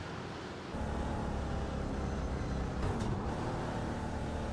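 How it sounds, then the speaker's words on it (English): Broken, sour engine of an American Muscle race car in a racing video game at Silverstone, droning steadily and loudly after a blown engine, with a low rough rumble and a brief higher whine near the end. "Yeah, that engine sounds poor."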